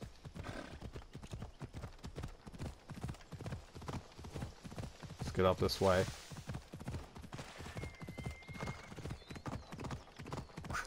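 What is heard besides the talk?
horse galloping hooves in a video game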